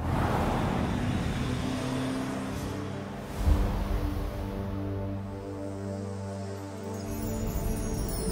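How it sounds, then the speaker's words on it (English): An electric car driving, heard from inside as a steady low road rumble with a soft whine and a brief bump partway through, quiet overall. "the reason I'm even driving this electric car"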